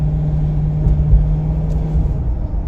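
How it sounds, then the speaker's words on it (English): Steady low rumble of the V8 engine in a 2011 Ford Crown Victoria Police Interceptor, heard from inside the cabin while it cruises, with a constant drone and no talking. "The engine sounds strong"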